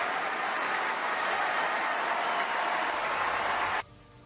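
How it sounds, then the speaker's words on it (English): Dense, sustained applause fills Wimbledon's centre court for Novak Djokovic, a steady wash of clapping from a large crowd that cuts off abruptly near the end. "applause from family, friends, and even the Serbian president rang out around Wimbledon's centre court"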